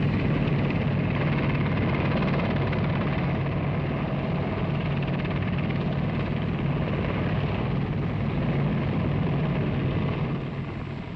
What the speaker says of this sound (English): The helicopter has great attributes. It can take off vertically, it can land almost anywhere, and above all, it can stand still in its own medium.